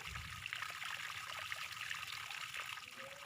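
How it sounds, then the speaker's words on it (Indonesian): Honey goes into a water apple and lime juice drink as a steady close trickle of liquid, pouring continuously without any voices. "Kemudian tambahkan madu."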